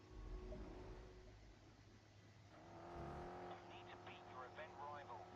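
Dodge Challenger race car in GRID Autosport, its engine droning steadily at mid distance and swelling louder partway through, with other race-car engine sounds mixed in and steady game noise beneath.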